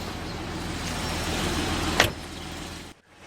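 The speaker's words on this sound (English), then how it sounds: "Both the windows are fully automatic" The automatic power window of a 2012 Porsche Cayman R runs with a steady electric motor hum, ends in a short thump as the glass seats, then goes quiet.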